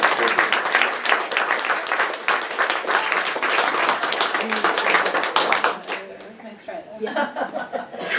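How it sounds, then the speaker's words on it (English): An audience applauds and cheers for a volunteer named Bethany Green, steady dense clapping for about six seconds that then thins into scattered claps and murmured voices. "Bethany Green, please give a round of applause for her."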